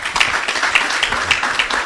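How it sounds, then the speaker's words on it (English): A live studio audience at a campus dialogue event gives a round of applause, a brief, fairly loud and even patter of many hands clapping together. "I think this is just a round of applause."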